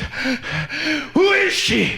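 A voice imitates a sneeze as a short, breathy, question-like exclamation with a rising gasp, spoken close and loud.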